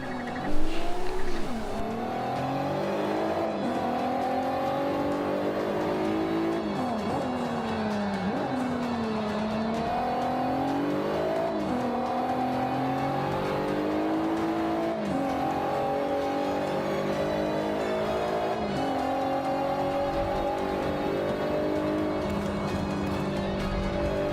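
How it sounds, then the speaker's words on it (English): Nissan GT-R from the racing video game Forza 5, its engine howling through continuous rising and falling revs with tire squeal and skids, loud and steady throughout, no talking. "I'm going to let you guys hear the car and watch my crashes and everything."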